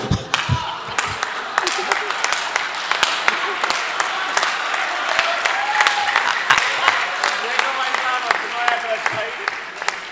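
Audience clapping at a Hindi comedic poetry recital, a dense steady patter of applause held across the whole stretch at moderate loudness, with some voices mixed in.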